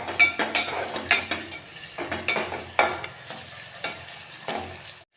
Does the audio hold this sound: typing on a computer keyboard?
no